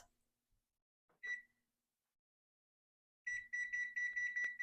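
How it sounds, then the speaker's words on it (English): Kitchen timer being set while preparing homemade cinnamon rolls: a single short beep, then after a pause a run of rapid repeated electronic beeps, close and clear with no talk. "We're going to set the timer for 30 minutes."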